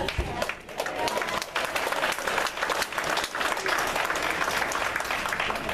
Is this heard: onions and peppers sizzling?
no